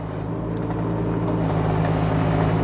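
A Kubota U17 mini excavator travels close by, its steady low engine drone and track rumble running continuously and fairly loud without a break.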